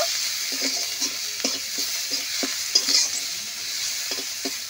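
Silver carp pieces stir-fried with salt and turmeric sizzle steadily in a pan, punctuated by regular spatula scrapes and taps close by.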